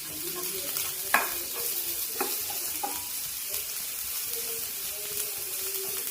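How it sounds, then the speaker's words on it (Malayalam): Chopped onion sautés in a pan for chicken cutlets, a continuous soft sizzle with occasional louder scraping stirs and clinks of the spoon. "നമുക്ക് സവോള ഉള്ളി ഇട്ട് കൊടുക്കാം. പതിയെ വഴിക്കാം."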